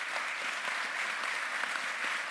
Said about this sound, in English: give a really, really warm round of applause to the fantastic panelists